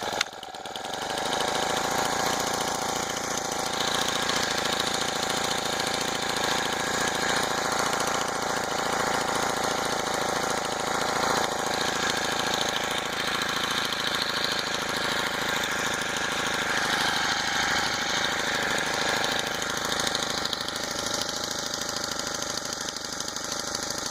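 A GX25 engine on a motorized bicycle catches with a quick start and then runs continuously, a close, buzzy, rattling small two-stroke-like drone holding steady throughout.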